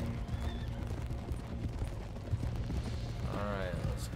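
Horses at a manor's thoroughbred stables in Red Dead Redemption 2 give off steady hoof clip-clop and a short whinny near the end, under ongoing game speech and a low ambient hum.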